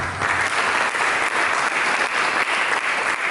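A church congregation at a sermon gives steady, dense applause, a full roomful of hands clapping at even loudness from start to finish.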